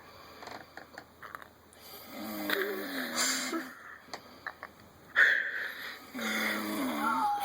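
A person snoring close by, irregular rasping wheezy breaths and snorts coming in uneven bursts, with soft background voices between them.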